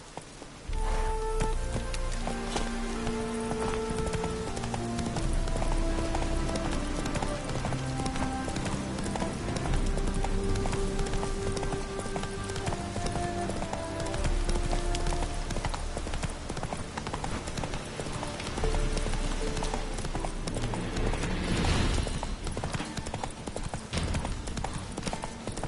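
A horse gallops in The Witcher 3 with steady, rhythmic hoofbeats under continuous game music and ambience, running the whole way at a close, even level.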